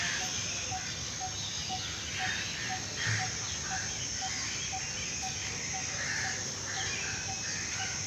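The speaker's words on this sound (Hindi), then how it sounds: "ये आबी परिंदे हैं, बहुत ही खूबसूरत आवाज़ें जो हैं वो इनकी आ रही हैं।" Water birds calling outdoors: a faint, evenly repeated series of short notes carries over a steady hiss, with a few softer calls scattered around it.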